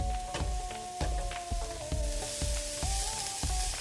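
Onions frying in a pan for Persian spinach borani, sizzling steadily and close up while a utensil knocks against the pan in a regular rhythm of stirring strokes.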